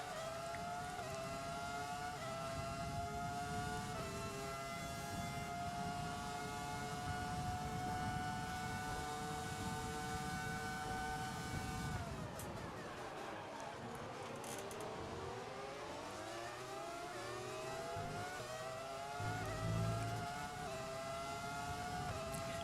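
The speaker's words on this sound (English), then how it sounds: "Just listen to the sound of these cars." Formula 1 race cars with 2003-era engines in the F1 2020 racing video game: a loud, steady high-pitched engine whine holds for about twelve seconds, then drops and climbs again through gear changes, continuous and close.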